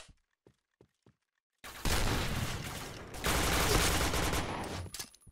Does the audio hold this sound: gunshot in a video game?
yes